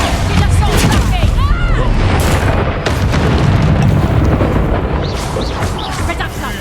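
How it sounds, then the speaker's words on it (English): A Confringo explosive spell goes off in the video game Hogwarts Legacy as a loud, booming blast. Dense rumbling and battle noise follow, and voices are heard throughout. "Confringo!"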